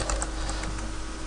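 Fast, light typing on a computer keyboard at a DOS-style command prompt, a quick burst of close key clicks over a faint background hiss.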